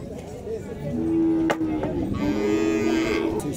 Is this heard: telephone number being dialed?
no